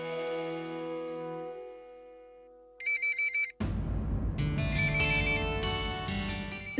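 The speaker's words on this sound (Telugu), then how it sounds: "నా ఫోన్ రింగ్ అవుతుంది" A mobile phone ringtone plays indoors during a Telugu family serial scene, first a steady melodic tone, then a repeated electronic chirping pattern, followed by a fuller, louder ringing melody with a broad backing.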